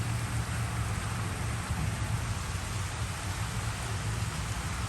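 Heavy rain pours down steadily outdoors on a farm during pumpkin planting, a loud, continuous, even hiss of falling water with no pauses, and no voices.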